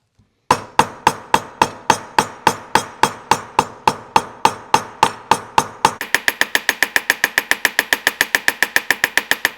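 Steady hammer blows on a thick 13-ounce leather belt end, roughly two strikes per second, then a faster, brighter run of closer-spaced taps toward the end; loud and close, with no talking.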